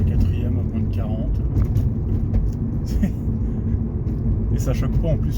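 A Hyundai Coupé V6 FX cruises in fourth gear at low speed, its engine a steady low rumble heard from inside the car while someone talks over it.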